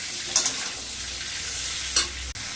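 Beans and radish frying in a pan, a continuous close sizzle with a couple of stirring scrapes breaking through.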